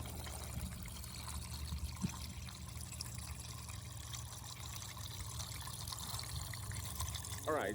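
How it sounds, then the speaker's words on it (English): Water drains out of a gold sluice after shutdown, a quiet continuous trickle and dribble over a low steady rumble, with a brief clink partway through. "I'm gonna get this shut down, let the water drain out"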